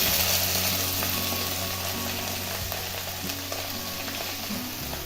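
Pumpkin leaves and chillies frying in a pan, a dense continuous sizzle with faint stirring scrapes and a low steady hum beneath, no talking.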